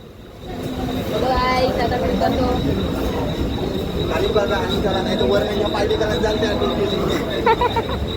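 Rumbling, rattling train carriage noise with a steady high whine; people talk nearby over the clatter of the ride.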